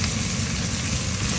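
Meat and onions fry in a pan, a loud, dense, continuous sizzle heard close up with no pauses and no voices.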